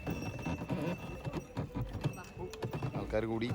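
Rhythmic clip-clop of horse hooves on a hard surface during a winter horse ride in Cavnic, Romania, fairly close, with people talking over it throughout.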